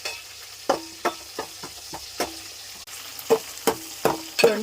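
Cumin seeds and green chillies frying in oil in a home kitchen pan, heard as a faint sizzle punctuated by about a dozen sharp scraping stirs at an uneven rhythm, close by with no voices.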